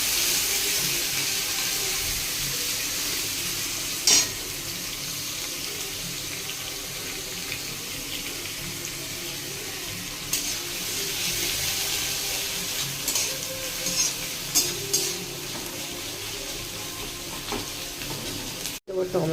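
Chopped onion fries and sizzles steadily in a pan for an egg tadka, with a close, continuous hiss, occasional stirring clinks and short bumps throughout.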